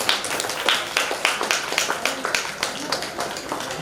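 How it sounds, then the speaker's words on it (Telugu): An audience at a Kuchipudi dance event applauds: light, scattered hand claps in a loose, uneven rhythm, moderately close and steady throughout. "అందరూ ఒకసారి క్లాప్స్ ఇవ్వండి ప్లీజ్. క్లాప్."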